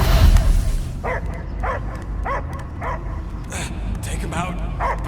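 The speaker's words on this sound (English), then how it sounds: "I hear only barking" Repeated dog barks in the Guardians of the Galaxy video game, evenly spaced yips over a dense rumbling game ambience, with voices murmuring in the background.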